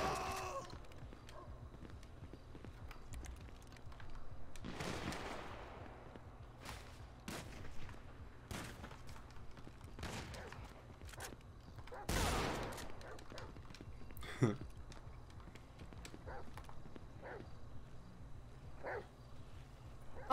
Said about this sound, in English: we have mass amounts of shots fired at 9184 Jamestown Street